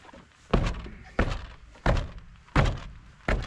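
A boot kicks a truck wheel with a hanging-up brake caliper, giving five heavy, dull thunks at steady intervals of about 0.7 seconds, each loud and close with a short ringing decay.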